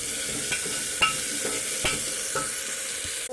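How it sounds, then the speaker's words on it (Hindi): Potatoes with green chillies fry in a pan, a constant loud sizzle broken by several scraping stirs of a spoon, with no talking. "आलू को हम थोड़ी देर भूनेंगे। ये हरी मिर्च भी डाल देंगे हम।"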